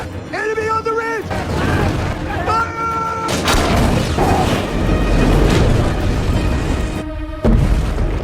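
Heavy booming blasts of fireball cannons in a Mulan film battle rumble through a dense, chaotic battle din, with shouted voices and music-like tones rising over the explosions.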